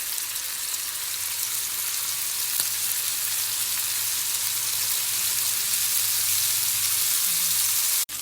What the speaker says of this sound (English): So now I'm just going to add in all of the chicken